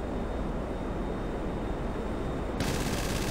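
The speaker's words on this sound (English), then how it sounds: "Launch the missiles." A Hydra jet in GTA 5 gives a steady, loud engine roar, and a sharp burst near the end marks its missile launch.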